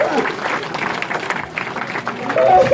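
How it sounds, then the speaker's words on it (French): Applause from the audience at a podium ceremony for the SSV class of the Plaines et Vallées rally, with a crowd clapping steadily throughout, close and fairly loud, and some voices mixed in. "Vous voulez l'applaudir"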